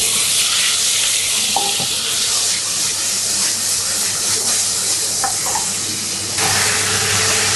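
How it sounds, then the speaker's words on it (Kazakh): Meat marinated with garlic, soy sauce, oil and salt fries in a hot pan, giving a loud, continuous hissing sizzle close up, with occasional faint clinks of stirring and no talking. "Етімізді жақсылап қуырып аламыз."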